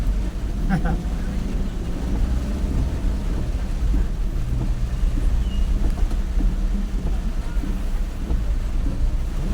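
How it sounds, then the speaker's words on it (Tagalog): Strong wind roars and buffets continuously along C5 Road, a loud broadband rush with low rumbling gusts throughout. "malakas daw yung hangin ngayon"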